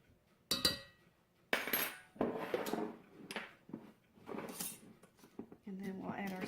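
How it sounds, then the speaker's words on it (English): Fork clinking and scraping against a bowl while stirring a pizza dough mixture, a few sharp taps and knocks close by between stretches of talk. "with a fork and give that a little stir"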